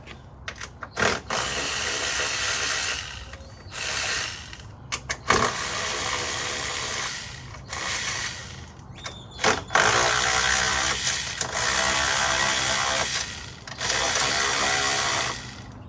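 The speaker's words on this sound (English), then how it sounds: "Let me loosen those strut tower nuts and just loosen them." A hand ratchet loosens the strut tower nuts on a car in repeated bursts of rapid clicking, each separated by short pauses, close and loud with no talking.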